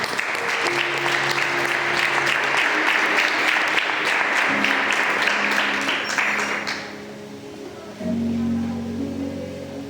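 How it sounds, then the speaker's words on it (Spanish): A church congregation applauds in a sustained wash of dense clapping that fades after several seconds, followed by a low murmuring hum in the room. "¿Por qué no le damos otra ofrenda de aplauso?"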